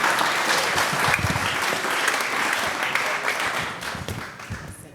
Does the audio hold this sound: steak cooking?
no